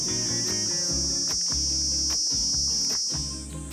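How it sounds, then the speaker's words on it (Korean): Cicadas sing in the mountains with a loud, continuous high-pitched buzz that runs steadily under pulsing mechanical or footstep-like thumps before fading near the end. "산에 오니까 이 매미가 저를 반겨주네요."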